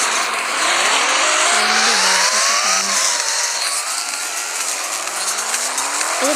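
A fully modified car in a Roblox driving game, running on old tyres, roars close and loud with a rising and falling engine note while its tyres squeal and skid continuously throughout, with no talking.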